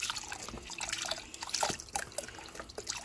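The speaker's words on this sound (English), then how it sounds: "I'm going to add in our chicken broth." Chicken broth is poured into a pot of Colorado green chili that already holds water, making a close, steady liquid trickle with small splashes and drips, and no voices.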